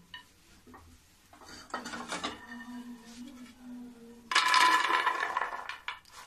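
Roasted cashews and almonds are scraped and tipped from a kadhai into another metal pot, giving clattering clinks and a dry rattle of falling nuts that swell into a loud, dense pour near the end, close and without talk.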